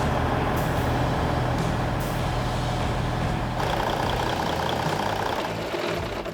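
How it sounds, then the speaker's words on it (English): A Western Star 4900 truck's diesel engine runs steadily after starting, a loud, dense rumble with a faint rhythmic knock and brief hissing bursts, nearby and continuous. "Started first time, and the engine just sounded perfect."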